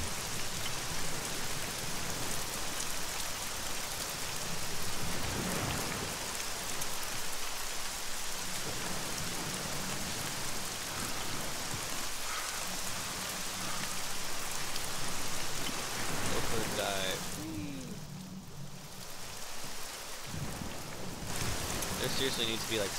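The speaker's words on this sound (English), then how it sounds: "Seems like all it does is get dark and rain in this." Steady heavy rain falling and pattering on a surface throughout, loud and continuous, with people talking over it at intervals.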